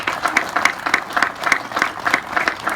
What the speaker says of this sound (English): would you join me in one more round of applause for Cadet Marquez?